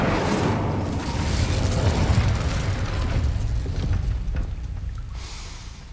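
Fire spell Incendio cast in the video game Hogwarts Legacy near a gate, a sustained roaring blast of flame that rumbles steadily for several seconds, then cuts off abruptly near the end.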